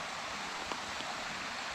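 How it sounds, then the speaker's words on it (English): Porcupine Creek, a wild Rocky Mountain stream, rushes in a steady broad hiss of flowing water, close and even, with a couple of faint splashes. "This is Porcupine Creek, and it is like my ideal of a wild Rocky Mountain stream"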